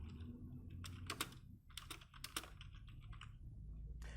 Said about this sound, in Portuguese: Mensagem de entrada, vou digitar aqui.